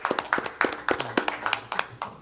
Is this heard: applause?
yes